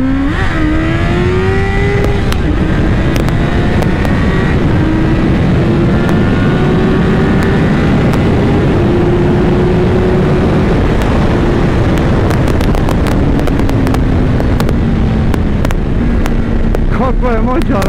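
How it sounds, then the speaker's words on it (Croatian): A 2003 Kawasaki Ninja ZX9R motorcycle engine under way, loud and close with rising and falling revs through gear changes, wind roar throughout. "Kako je moćan ovaj motor."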